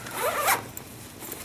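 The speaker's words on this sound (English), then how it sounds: "just a canvas, typical canvas bag with your zipper" A zipper on a canvas bag is pulled in one quick, loud rasping stroke close by, followed by faint handling sounds.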